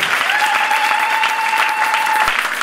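A church congregation bursts into sustained applause for the pastor, dense steady clapping with crowd noise filling the space, a held tone ringing faintly beneath.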